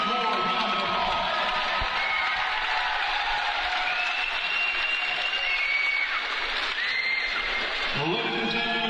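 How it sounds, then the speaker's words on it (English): A crowd at a fight event applauds and cheers for the fighters, a steady wash of clapping and crowd noise that runs through the whole stretch, with faint tonal sounds mixed in. "Let's give both of these fighters one more round of applause."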